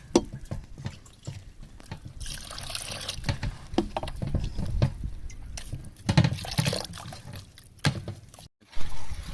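Flour batter for halwa is stirred by hand until smooth, making close wet sloshing and scraping with splashy, liquid churning that rises and falls, briefly pausing near the end.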